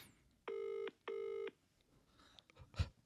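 Two long touch-tone telephone tones, each about half a second with a short gap between them, clear and fairly loud. A brief faint rustle and a soft thump follow afterward, and no ringing tone is heard.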